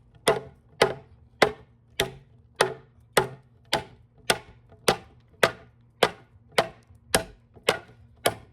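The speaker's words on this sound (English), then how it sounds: "Chopping through it easy." An Mtech Xtreme Raptor knife chops into wood with sharp, evenly spaced strikes, about fifteen crisp impacts at a steady rhythm, close and loud, with a low hum underneath and no talk.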